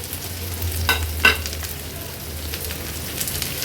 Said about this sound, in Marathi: आलं आणि लसूण पण ह्याच्यासोबतच मी परतून घेणार आहे तेलावर.